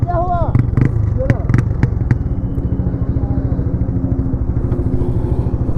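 A 125cc motorcycle engine runs steadily on a group ride, a loud, close, even throbbing putter that holds through the whole stretch, with brief clatter and a couple of sharp clicks early on.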